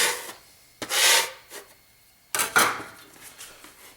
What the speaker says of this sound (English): Box grater, here we go.